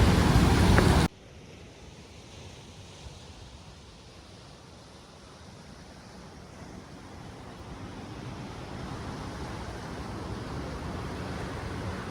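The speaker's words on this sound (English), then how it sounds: "here is the ocean with big waves" Big ocean waves roll near the Bentota River mouth, a broad, steady roar of surf with wind that swells slightly louder over several seconds after a brief louder burst at the start.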